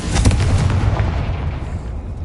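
Confringo blasting spell in a Hogwarts wizarding video game, a loud close booming explosion with a sharp onset and a rumbling tail that slowly fades away.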